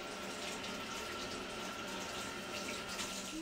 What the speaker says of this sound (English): go ahead and rinse everything off